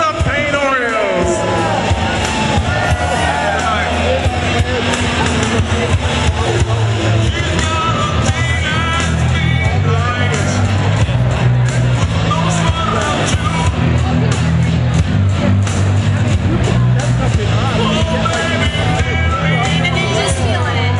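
Roller derby crowd at the DC Armory cheering and shouting during a DC Rollergirls bout, a constant loud roar of voices with whoops, while an announcer talks over it.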